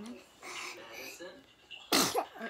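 A person sneezes sharply once near the end, a close, loud burst following quieter talk from a child and an adult during a makeup session at home.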